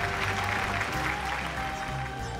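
An audience applauds the first-place winner at a Hafiz Indonesia 2015 Quran memorization competition ceremony, dense continuous clapping filling a large hall, steady and moderately loud with a slight fade at the end.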